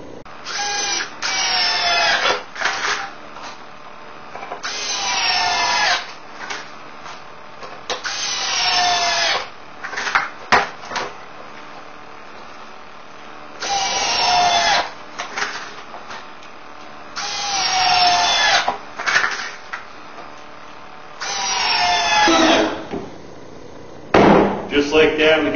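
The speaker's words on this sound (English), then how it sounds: "we'll just use our cordless drill" A cordless drill drives screws into wood to assemble a small deck for mounting an air compressor and motor, in repeated loud whirring bursts of a few seconds each, separated by quiet pauses and brief knocks.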